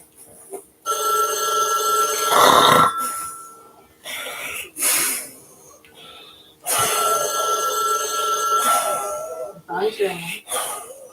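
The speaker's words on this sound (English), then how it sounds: "Phone's ringing." A telephone bell rings loudly in two long bursts separated by a pause, close by, with short bumps, rustles and brief voice sounds between the rings.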